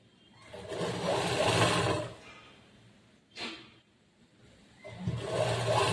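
A sewing machine sews a straight stitch on churidar pants in two bursts of close, buzzing motor whir separated by a quiet pause and a brief swish.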